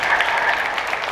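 A brief burst of steady crowd applause at a quinceañera celebration, dense and even, heard alone without talk.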